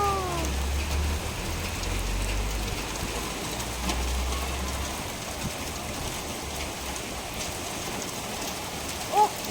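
Steady evening rain with hail pattering down, a dense continuous hiss close by with a low rumble early on and a faint sharp tap near the end; no talking.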